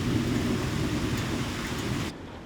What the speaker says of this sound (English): So far it's pretty normal thunderstorm.